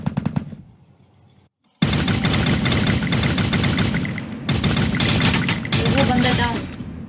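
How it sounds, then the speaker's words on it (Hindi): Rapid bursts of automatic gunfire in a solo battle-royale video game, loud and dense, starting after a brief quiet gap and continuing in sustained volleys, with a voice speaking faintly at times. "फायरिंग की भी आवाज़ें आ रही हैं"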